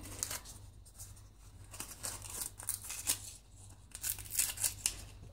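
Dried bay leaves crumpled and crushed by hand, a steady close-up crackling and crinkling with sharp brittle snaps throughout, over a low background hum.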